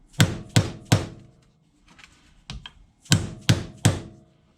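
Sharp metallic taps from a brass hammer on a steel shock cover on a 2020 Chevy Silverado: three quick strikes, a few softer knocks, then three more hard blows, close and clear.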